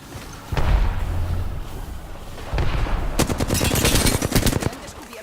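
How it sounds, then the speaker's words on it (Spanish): Gunfire in a shooting video game: a heavy burst, then a pause, then rapid automatic fire rattling in close succession, loud and dense, with faint background voices. "Me han descubierto. Estoy recibiendo disparos."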